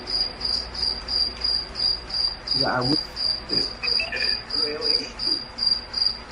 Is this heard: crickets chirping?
yes